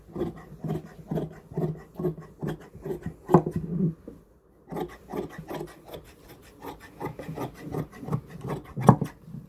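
Scissors snipping through shirt fabric during Punjabi tailoring of a jet-style shirt, a steady run of close, rhythmic rasping cuts with a short pause midway, no talking.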